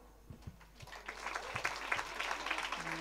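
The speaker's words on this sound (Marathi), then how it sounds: "कीर्तन संपलंय अशा टाळ्या वाजवा बरं" Audience clapping at a Marathi kirtan, starting as scattered claps and swelling into a dense, sustained round of applause from a seated crowd.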